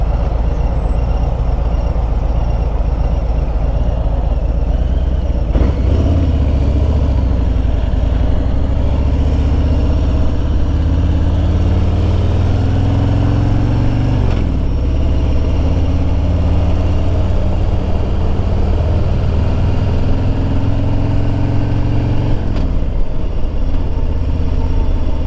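A Harley-Davidson Road Glide Limited motorcycle cruises at highway speed, its engine drone and wind rush loud and continuous, with a few rising and falling shifts in pitch.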